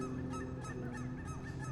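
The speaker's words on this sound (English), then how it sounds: "Look at the ducks." Ducks honking and calling steadily outdoors along a walking path, several birds overlapping in a continuous noisy chorus with no speech.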